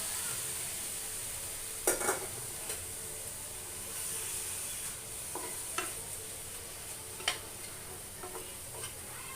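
Chicken cooking without oil in a wok on a low gas flame gives a faint, steady sizzle with occasional soft ticks and clinks, quiet and with no talking.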